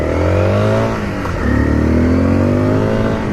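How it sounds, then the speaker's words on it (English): A Honda CRF250L motorcycle fitted with an EJK fuel controller revs loudly up close, its engine rising in pitch, dipping briefly, then climbing again into a sustained throaty roar, with no talking. "makes the bike sound pretty mean. You get the nice throaty feel."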